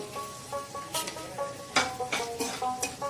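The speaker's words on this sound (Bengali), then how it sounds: "শুকনো লঙ্কা 4টে আর তেজপাতা 2টো আমি তেলের মধ্যে দিয়ে দেবো।" Dried red chillies and bay leaves dropped into hot oil for a mango pickle tempering, giving a soft steady sizzle, with a few louder crackling spurts and a spoon scraping gently against the pan.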